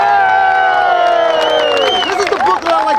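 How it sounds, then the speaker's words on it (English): Crowd cheering and whooping at a street protest in Bay Ridge against possible migrant shelters, loud and sustained with shouting voices rising near the end. "Let's give them a great round of applause."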